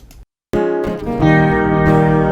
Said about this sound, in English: Which are of course followed by the rhythm guitars, acoustic guitars